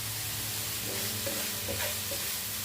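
Onions sautéing with salt in a pan for a Malabar kilikood snack, a steady frying sizzle under soft scraping strokes of a spoon stirring through them, close and continuous with no talking.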